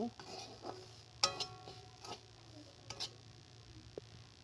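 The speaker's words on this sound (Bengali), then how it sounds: "আমি এখানে হালকা আঁচে ভালো করে ভেজে নেব যাতে না নিচ থেকে লেগে যায়" Semolina being stirred in a pan over low heat, with soft scrapes and light clinks of a spoon at irregular intervals against a steady low hum, fairly quiet and close.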